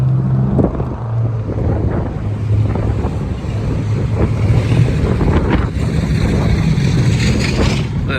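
Strong wind buffets the microphone outdoors in a restaurant parking lot, a loud continuous rumbling roar with gusty surges throughout and no clear talk.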